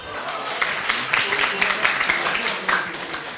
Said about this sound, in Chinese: 我们给他掌声好不好啊？